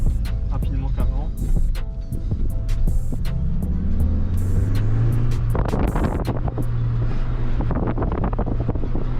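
A Cupra Formentor engine revs up with a rising drone over wind buffeting, followed by a run of small crackling exhaust pops from the rear, with a person talking throughout.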